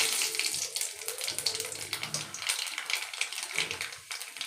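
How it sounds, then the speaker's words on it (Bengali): Nigella seeds tempering in hot oil while cooking ilish macher jhol (hilsa fish curry): a close, steady sizzling hiss threaded with fine crackling pops, with no talk. "এবার তেল দিয়ে দিচ্ছি এর উপর কালো জিরা ফোড়ন"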